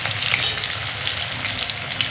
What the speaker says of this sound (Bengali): এভাবে আপনারা সিম ভাজা করবেন